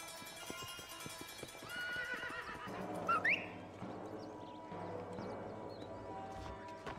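A horse in Red Dead Redemption snorts and lets out a loud neigh midway, with steady clip-clopping hooves before and after, all set against outdoor ambience and no talking.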